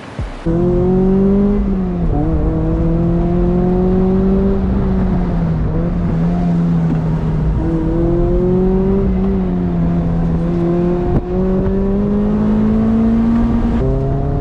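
Toyota MR2 Spyder engine revving hard in second gear on a canyon road, a loud, sustained rising whine that climbs, drops at shifts and climbs again several times, heard close with no talk.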